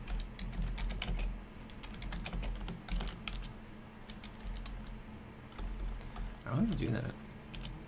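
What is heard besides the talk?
typing on a computer keyboard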